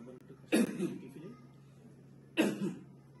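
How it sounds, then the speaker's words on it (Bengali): A patient coughs twice on request during an inguinal hernia examination, two short, close coughs spaced about two seconds apart in a quiet room. "আবার একটু কাশি দেন।"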